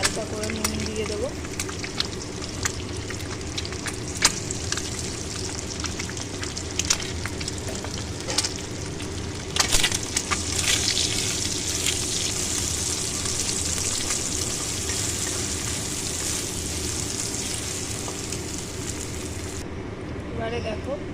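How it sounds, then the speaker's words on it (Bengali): An egg fries in oil in a pan with a continuous bright sizzle and scattered spatters and utensil clicks, while a person talks throughout. "দেখো ডিমটা ভেজে দিচ্ছি"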